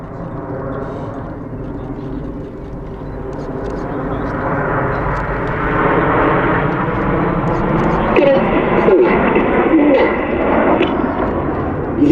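Red Arrows jets at the Sywell Airshow in 2024 make a broad, rising roar that swells as the aircraft pass, heard from a distance beneath someone commentating over a public address.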